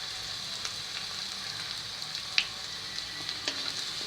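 Onion fries with salt and fenugreek seeds in a pan for okra curry, a steady even hiss with a few sharp crackles and pops, no voices.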